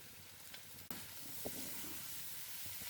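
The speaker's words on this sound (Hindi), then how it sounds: "इनको भी हल्का सॉटे कर लेंगे" Capsicum, cabbage and green onion being sautéed with chicken and carrots, a soft steady sizzle that jumps louder as the vegetables hit the hot pan, followed by a few light stirring scrapes.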